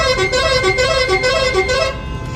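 Car and bus horns honking almost nonstop in slow, crawling traffic near Amritsar, with overlapping sustained blaring tones that waver in pitch, close and loud throughout.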